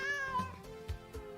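A single cat meows at a sanctuary for feral and abandoned cats: one drawn-out, close meow that slides downward, followed by a few softer short sounds.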